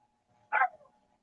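A single short dog bark indoors, one loud burst standing alone in a quiet room.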